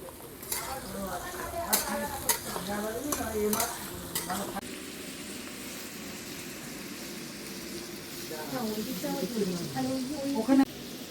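Chopped onion sizzles in hot oil in a home village kitchen while a spatula scrapes and clatters against the pan in quick bursts, then steady frying continues with occasional stirring for a fish-bone chachchari with eggplant and beans.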